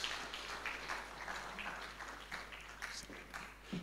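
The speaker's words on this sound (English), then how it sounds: "let's still give him a round of applause" An audience at a public lecture applauds steadily, a dense patter of many hands clapping at moderate distance for several seconds without pause.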